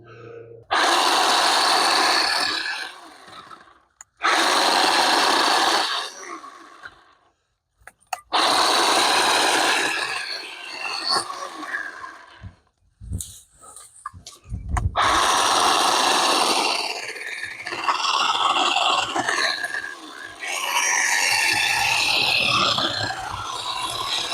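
A Worx electric chainsaw whines in several loud bursts separated by short pauses, then runs longer near the end, cutting steadily through wood up close.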